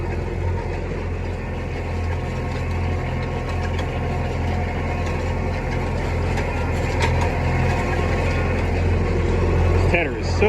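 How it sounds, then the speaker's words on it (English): A tractor pulls a hay tedder through a field during second-cut haying, its engine a steady mid-pitched drone with low rumble and faint mechanical rattling throughout. "This tedder is so smooth on this tractor."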